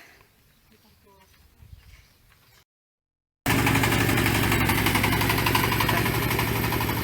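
A vehicle engine running on a road as it prepares to turn around, a loud steady close rumble after a quiet stretch with faint voices and a short gap.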